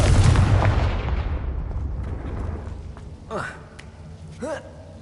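A Confringo fire spell explodes in Hogwarts Legacy gameplay: a loud, heavy blast opens and rolls off into a long, fading rumble, followed by two brief, bright whooshing spell effects.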